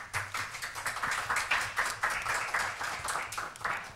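Modest applause from a lecture audience at a university literary panel, scattered clapping from a smallish crowd with some distinct individual claps, fairly quiet and uneven.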